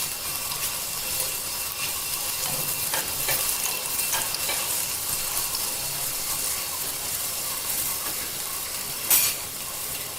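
Garlic sizzles in hot oil in a pan for dal fry while a spoon stirs it, a steady close frying hiss with scraping touches throughout and one brief louder clatter near the end.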